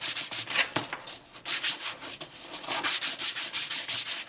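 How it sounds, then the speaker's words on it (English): Sandpaper rubs rhythmically over a cut oak wood piece, a quick close series of scratchy back-and-forth strokes with no talk. "I just simply go over to the sandpaper"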